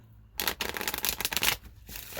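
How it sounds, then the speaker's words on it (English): Tarot cards being shuffled by hand, one soft, close riffling burst lasting over a second and fading to a quiet pause, with no talk. "One more shuffle"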